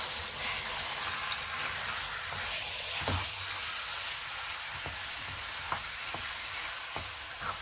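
About half a kilo of minced mutton fries in oil and a tablespoon of ghee in a pan, a constant bright sizzle with occasional soft knocks as the meat is broken up.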